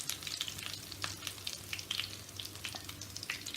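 Potato lollipop balls fry golden brown in hot oil, a steady close crackling sizzle with scattered bursts of popping and no voices.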